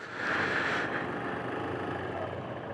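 Steady motorcycle engine drone under throttle, a loud continuous broadband roar with a brief brighter surge near the start before settling into an even, sustained note.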